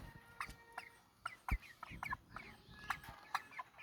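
Backyard chickens cluck softly in an opened cage, a series of short, faint, irregular clucks and calls close by with light rustling.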